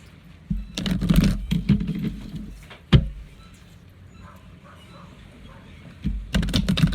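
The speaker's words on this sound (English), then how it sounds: "while I shuffle for the next card" Rapid flurries of crisp, papery clicks as cards are riffled and shuffled, two bursts separated by a quieter stretch with a single sharp tap.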